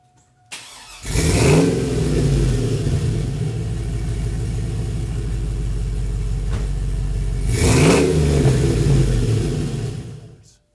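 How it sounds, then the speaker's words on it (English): A car fitted with long tube headers fires up and revs, a loud close engine roar that settles into a throbbing idle and then swells with a second rev before cutting off. "My long tube headers made an incredible difference in terms of snap, throttle response, and the sound is unbelievable."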